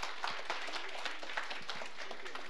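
Steady applause from an audience: a dense, even patter of many hands clapping at moderate volume, with no voices.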